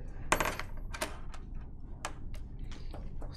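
Keys on a computer keyboard clicking in a few sparse, separate taps at a quiet indoor level, with no one talking.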